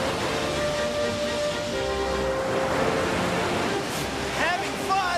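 Ocean waves breaking on a shore give a continuous broad roar of surf that washes steadily for several seconds, with brief bright splashes near the end.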